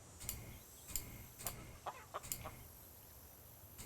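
Hens cluck faintly in scattered short bursts in the video game Nancy Drew: Secret of Shadow Ranch, with no talking over them.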